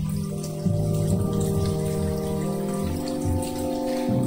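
Steady rain over a bog in the video game The Banner Saga 2, a continuous soft hiss of falling water running throughout beneath sustained musical tones.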